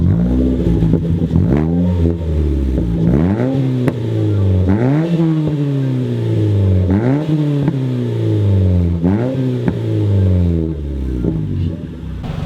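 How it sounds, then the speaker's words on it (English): An off-road Mazda 3 engine is revved repeatedly, close and loud, each rise in pitch followed by a falling note with crackling exhaust pops, about six blips in a row. "Let's get some exhaust clip."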